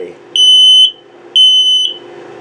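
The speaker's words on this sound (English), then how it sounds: "This is your carbon monoxide LP gas detector." A carbon monoxide and LP gas detector in a 2021 Flagstaff 228D tent camper sounds two loud, piercing self-test beeps about half a second each, one second apart, clear over a quiet background.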